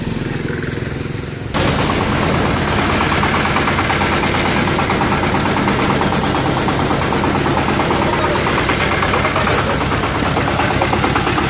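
A head-feed digital thresher machine's engine starts abruptly after a brief quiet moment, then runs loud and steady with a dense, rapid mechanical rattle throughout.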